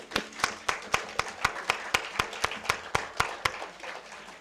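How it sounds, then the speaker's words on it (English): Audience at an awards and closing ceremony clapping in unison: about seventeen sharp, evenly spaced claps in a steady rhythm, fairly close, over faint background noise. "Clap above your head."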